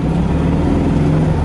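A 1975 Volkswagen Fusca engine idles after a tune-up, with the timing and points adjusted and a smaller carburettor jet fitted, giving a steady, even low rumble that stays close and constant throughout.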